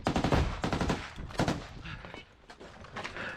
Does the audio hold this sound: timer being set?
no